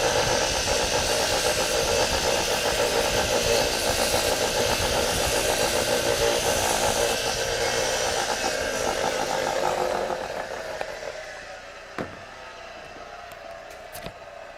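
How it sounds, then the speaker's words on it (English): A polishing wheel buffs copper-plated die cast metal trim, a loud steady whirring grind that holds for about ten seconds before the workpiece eases off and the motor spins on more quietly with a couple of clicks. "watch what happens when it's on the polishing wheel"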